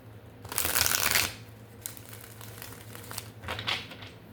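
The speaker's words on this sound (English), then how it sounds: "Let's shuffle." A quick burst of a tarot deck being shuffled, crisp riffling up close, then softer flicks and rustles as the deck settles.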